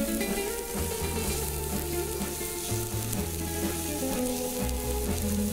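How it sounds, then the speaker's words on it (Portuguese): Onion sautés in a frying pan, a steady, close sizzle with soft stirring scrapes and no talk. "vou refogar um pouco da minha cebola"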